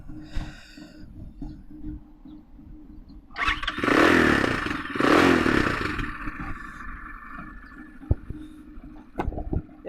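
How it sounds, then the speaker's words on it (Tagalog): A CPI GRX250 motorcycle engine cranks and starts after a quiet idle lead-in, with a loud rising roar for a few seconds, then settling while light clatter follows, heard up close. "as you could notice naman, nag-start na siya nang hindi siya naka-kickstand"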